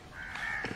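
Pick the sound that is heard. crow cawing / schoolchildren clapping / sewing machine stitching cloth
crow cawing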